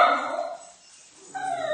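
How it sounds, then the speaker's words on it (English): A dog barks indoors, two short tonal barks separated by a brief pause, close and fairly loud, with no talking. "Don't know why my dog is barking"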